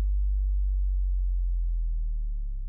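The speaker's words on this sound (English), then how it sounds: "Nice, simple bass line." Synthesized sine-wave bass line from a Sanxion Cubase arrangement, a deep pure tone held steady then bending downward in pitch near the end, loud and alone.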